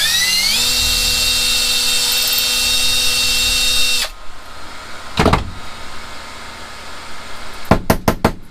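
A power drill whines steadily at high speed for several seconds boring into an interchangeable lock core, then stops, followed by a few sharp metallic clicks and knocks nearby.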